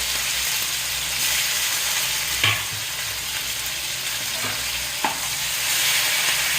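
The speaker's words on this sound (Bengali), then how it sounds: "এটাকে কিছুক্ষণ ভেজে রাখবো" Onion and tomato fry in a pan, a steady close hissing sizzle with a couple of sharp utensil taps as the mix is stirred, no voices.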